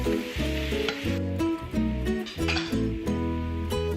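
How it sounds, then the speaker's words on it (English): Crumbled bacon goes into fried cabbage sizzling in a pan, a steady hiss and crackle under clinks of a utensil against the pan and shifting stirred food. "the final step in this process is to add some crunchy crumbled bacon pieces"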